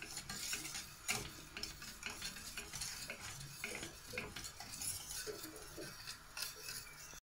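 A spoon stirs chocolate melting in a hot drink in a pot, giving soft repeated scraping and light clinks against the metal over a faint simmering hiss, close and quiet, with no talk.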